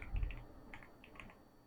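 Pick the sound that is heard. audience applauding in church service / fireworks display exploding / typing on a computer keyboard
typing on a computer keyboard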